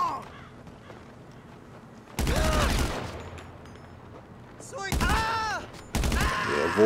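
Bursts of video game gunfire, three loud rapid volleys separated by quieter stretches, each carrying ringing, squealing tones, heard up close with no talking.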